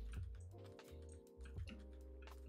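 Rapid clicking keystrokes on a computer keyboard rattle along in uneven bursts over a steady low background hum, during a Minecraft gaming session.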